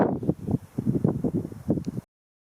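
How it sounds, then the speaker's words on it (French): Strong outdoor wind buffeting the microphone in gusty low rumbling bursts across a garden food forest with young fruit trees and a pond, cutting off abruptly near the end. "il y a du vent partout, ça assèche le terrain et ça pète les oreilles quand on regarde les vidéos"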